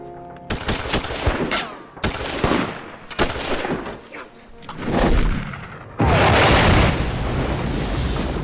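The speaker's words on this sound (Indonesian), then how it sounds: "Saat Deacon terkapar lemah, seorang penembak jitu Jerman berhasil melayangkan beberapa peluru ke dada Deacon." Repeated gunfire and explosive bursts from a German sniper during a World War II battle scene in a war film, loud sharp shots in irregular succession amid booming blasts, with no talk.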